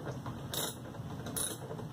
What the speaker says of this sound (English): millimeter socket. So let's see if we can unloosen these.